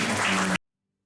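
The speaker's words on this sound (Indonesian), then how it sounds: "Tepuk tangan bagi Tuhan." Church congregation clapping together during a worship service, a dense burst of applause lasting about half a second before cutting off abruptly into silence.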